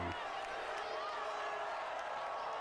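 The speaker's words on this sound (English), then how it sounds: "He's getting that crowd fired up" A football stadium crowd at a high school game cheers for a mustang mascot, a steady broad roar of voices and whoops that holds at an even level throughout, heard from a distance.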